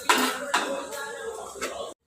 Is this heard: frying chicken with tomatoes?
yes